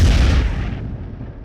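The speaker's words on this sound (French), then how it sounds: "puissants canons de 280 mm avec une portée de 7 km" A powerful 280 mm artillery cannon with a 7 km range fires, a loud close boom whose heavy low rumble decays over about a second with no voices.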